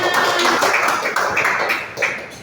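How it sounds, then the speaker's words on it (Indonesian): A short burst of classroom clapping from a small group, hands patting unevenly for a couple of seconds, fairly close. "Tepuk tangan untuk Mbak Sania."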